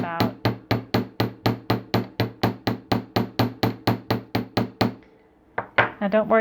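A hammer taps wire during jewelry wirework in a quick, even series of about twenty sharp metallic strikes, close and loud, followed by a short pause and a few more taps.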